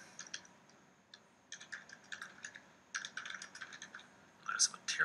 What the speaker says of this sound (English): Start typing here.